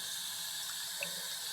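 A tap runs at a sink while a beard is wetted, giving a faint, steady, even rush of flowing water close by with no talking.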